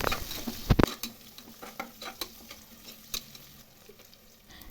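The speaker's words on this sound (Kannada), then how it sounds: "ನಾನಿಲ್ಲಿ ಈರುಳ್ಳಿಯನ್ನು ಸೇರಿಸ್ಕೊಂಡು ಚೆನ್ನಾಗಿ ಫ್ರೈ ಮಾಡ್ತಾ ಇದ್ದೀನಿ" Onions fry in a pan with spices for mushroom pulao, a crackling sizzle broken by clattering spatula stirs and scrapes, busiest near the start then settling into a steady close fry without speech.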